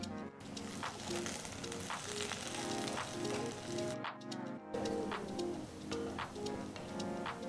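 Sliced onion sizzling steadily in hot ghee with bay leaf, cinnamon, cloves, cardamom and mace, a loud continuous frying hiss with a brief drop partway through.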